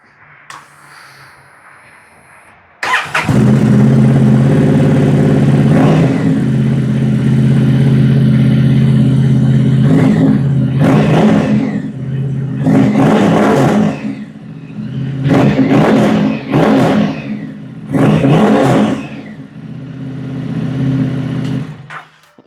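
A Honda Transalp XL750 motorcycle with an aftermarket exhaust fires up from cold, then idles steadily with repeated throttle blips rising and falling in several loud, close revs, no talk.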